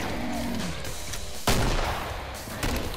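Gunfire in the co-op shooter game Killing Floor, a couple of sharp shots cutting through a busy game soundscape, close and punchy with no talk.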